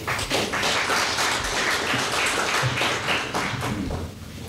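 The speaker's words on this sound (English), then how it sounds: "may I ask the audience just to hold their applause to the end" At an all-candidates federal election debate in 2011, the audience claps after a candidate's answer in a steady, moderately loud round of applause lasting several seconds.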